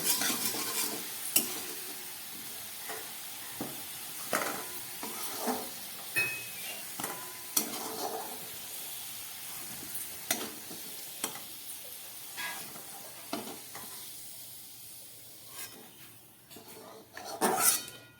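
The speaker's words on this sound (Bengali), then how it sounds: "আলুগুলো আমার লাল করে ভাজা হয়ে গেছে এবার আমি এটাকে" Potatoes fry in oil for a vegetarian cabbage curry, with a steady sizzle under repeated scraping and stirring strokes against the pan, close and moderately loud, and no one speaking.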